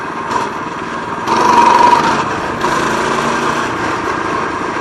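A dirt bike engine buzzes at a high pitch while the rider pulls a wheelie. It swells louder partway through and then holds a strained, steady rev nearby.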